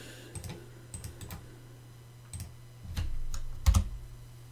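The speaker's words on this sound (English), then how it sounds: "Then after that, let's type this." Computer keyboard keys are typed in scattered, close, crisp clicks during Raspberry Pi 5 setup on Linux Ubuntu. A quick burst near the end is followed by a heavier key press, with no talking.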